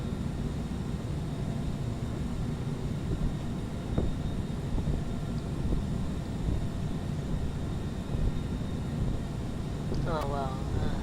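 Steady broadband drone of a British Airways CityFlyer jetliner cruising at about 33,000 feet en route from London City to Alicante in Microsoft Flight Simulator X, a continuous engine and airflow roar with a brief chirpy tone near the end.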